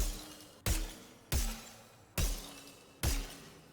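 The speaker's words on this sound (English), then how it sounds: "And Mystic Shot had its sound effect changed." Four sharp, punchy Mystic Shot ability blasts from the game Deadlock at an even pace, each a bright crack with a shattering tail fading before the next.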